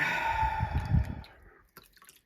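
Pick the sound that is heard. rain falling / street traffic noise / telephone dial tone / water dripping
water dripping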